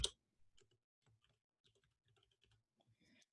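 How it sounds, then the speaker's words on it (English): A computer keyboard typing out a section title in class notes, a sparse run of light, separate key taps in a quiet room with no talk. "You can use the keyboard to type a title for a section."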